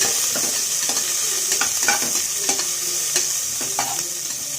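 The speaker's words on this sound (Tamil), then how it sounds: "4 வெங்காயத்தை நீட்டமாக வெட்டி போட்டுக்கோங்க. நல்லா வதக்கி" Sliced onions sauté for vegetable biryani in a loud, constant sizzle, with frequent stirring scrapes and taps from a spoon against the pan close by.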